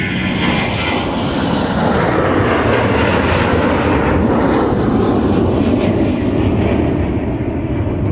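A Delta airliner departs Minneapolis–Saint Paul airport, its jet engine roar loud and steady throughout as it passes close by, with no voices.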